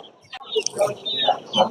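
Chickens cluck in short, uneven bursts at a busy hen and duck market in Sarisha, South 24 Parganas. The calls are close and layered over a background murmur of people.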